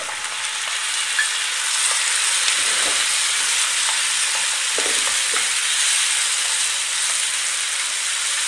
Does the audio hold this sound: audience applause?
no